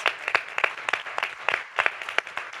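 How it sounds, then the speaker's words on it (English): Scattered, uneven clapping from a small live-event crowd honoring the event staff, individual hand claps distinct and spaced rather than a dense roar, moderately quiet and without voices. "I just want to give a round of applause for you guys."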